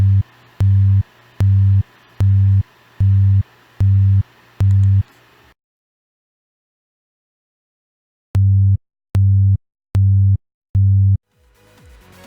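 Low, pure sub bass synth tone from FL Studio's 3xOsc, pulsing in seven even repeated notes, then silence, then four more identical pulses, loud and clean with no voices.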